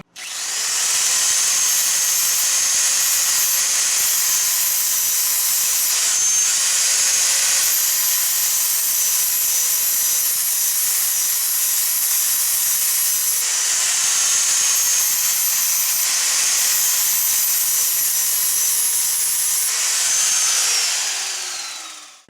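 An electric grinder runs continuously against a lawnmower blade under light pressure, a loud, close, high whining grind lasting the whole stretch, with slight pitch dips as the blade is worked, no voices.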